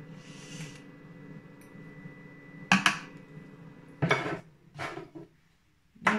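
Half a spoonful added while making homemade mustard: a few sharp clinks and scrapes of a spoon against a container, close and distinct, separated by quieter stretches and a low background hum.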